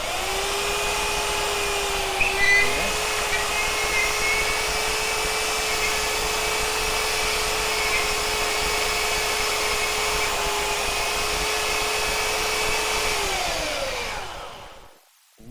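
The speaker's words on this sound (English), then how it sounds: "Now the belt's running true on the roller, and you can continue on and get all the scratch marks out" A belt sander runs steadily and loud on its own, a continuous motor whine holding level for most of the stretch before winding down near the end.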